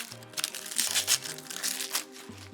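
An onion's dry papery skin is peeled away with a string of soft, crinkly crackles and rustles close up, while background music plays underneath.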